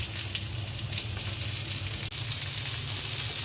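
Rohu fish fries in oil in a pan, giving a steady, close sizzle that holds throughout with one brief dip and no talk.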